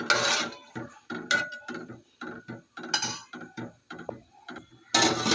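A lid goes onto a pot of Telangana bagara rice, giving several close, light metallic clinks and scrapes in an irregular rhythm, with no talking.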